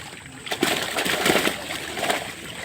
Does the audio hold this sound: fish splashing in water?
yes